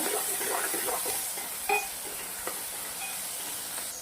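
Ingredients for upma sauté in hot oil with a steady, close sizzle and hiss and a few soft utensil clicks, with no voices.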